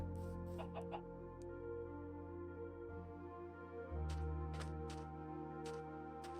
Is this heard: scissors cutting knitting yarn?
no